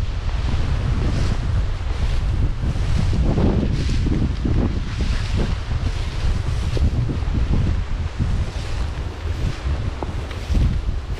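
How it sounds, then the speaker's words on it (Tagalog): Strong wind gusting steadily across an open field during a sweet potato and banana harvest, with heavy low rumble and buffeting against the microphone throughout, no voices. "Lakas ang hangin na ba?"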